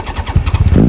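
A 1989 Honda CBR1000F motorcycle engine, running without exhaust baffles, sputters to life, rough low pops building quickly into a loud, throaty idle, close by.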